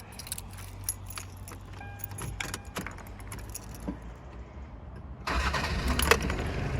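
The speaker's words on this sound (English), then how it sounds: "Instantly fires up, very, very first turn of the key." Keys jangle near a 1992 Toyota Hilux Surf 2.4 turbo diesel, followed by a brief crank and the engine catching at once into a louder steady idle that continues to the end, no talking.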